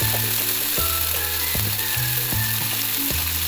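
Onions fry in a pan for besan bhurji, giving a continuous sizzling hiss that sits under a rhythmic, stepping musical backing track throughout.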